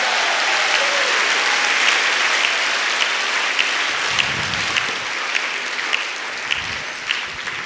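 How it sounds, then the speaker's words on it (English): A church congregation claps together in a steady, loud burst of sustained applause that fills the room, with a few cheers rising through it. "Give Jesus a clap offering this day."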